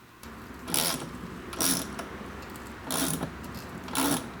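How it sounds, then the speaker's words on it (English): A hand tap cuts 5/16-18 threads with cutting oil on a John Deere lawn tractor deck pulley repair, giving four short rasping, ratchety bursts at irregular intervals, close but fairly quiet with no talk. "I've got my 5/16 18 tap. And I'm just going to tap some threads in there."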